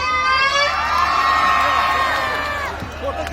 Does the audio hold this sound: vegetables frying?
no